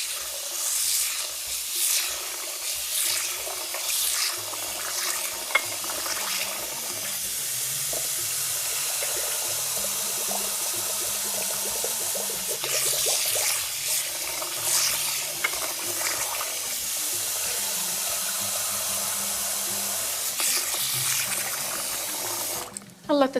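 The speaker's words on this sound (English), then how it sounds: "Wash it with cold water." Fine ground burghul is washed in cold water: a continuous rushing, splashing wash of running water with faint stirring, steady and close throughout.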